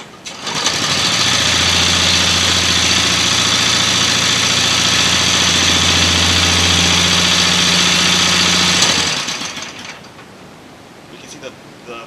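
A modified Briggs & Stratton Raptor 3 206cc go-kart racing engine runs loud and close at a steady buzzing rev for about eight seconds, then cuts off and winds down to quiet.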